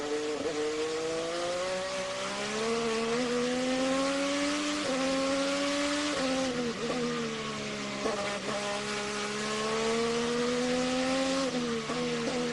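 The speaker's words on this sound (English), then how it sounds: "listen to him work the throttle as he goes around the track" Onboard IndyCar engine screaming steadily at high revs during the 2015 Louisiana race, pitch rising and dipping as the throttle is worked through gear changes and corners, loud and continuous.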